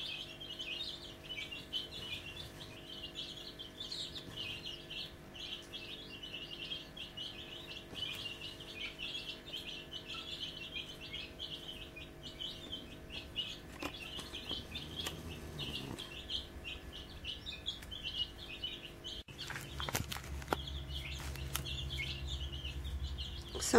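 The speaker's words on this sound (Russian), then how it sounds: "начали вылупляться курпачи. Несколько яиц уже проломленных." Newly hatching partridge chicks chirp in rapid, high, continuous peeps close by, a steady cheeping chorus that runs throughout with occasional rustling and a low hum near the end.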